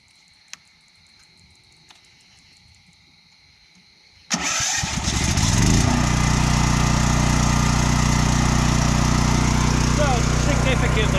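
A Champion generator running on gasoline is electric-started after a few seconds of quiet. It bursts into a loud, close engine roar, then settles into a steady, droning run at constant speed.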